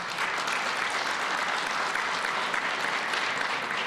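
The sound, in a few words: audience applause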